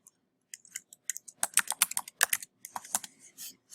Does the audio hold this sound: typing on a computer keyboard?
yes